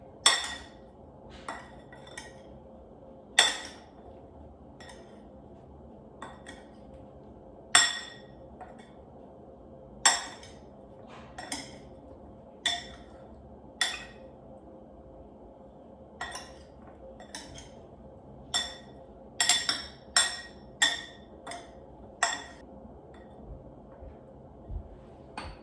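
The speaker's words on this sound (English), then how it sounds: "now let's toss it to melt the butter" Baby potatoes being tossed with butter in an Instant Pot: sparse metallic clinks and taps of a utensil against the pot, spaced irregularly and clustered near the end over a quiet background.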